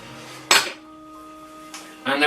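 Walnuts and chocolate chips being stirred into blondie batter in a bowl, a few scraping, clinking strokes of a utensil against the bowl with quiet pauses between them.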